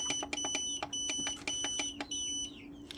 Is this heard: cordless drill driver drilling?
no